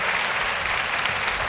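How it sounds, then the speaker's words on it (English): Audience applause for a panel at a national town hall meeting, a dense, steady wash of clapping from a large crowd that holds at an even level throughout with no talk over it. "Let's give this panel an unbelievable round of applause"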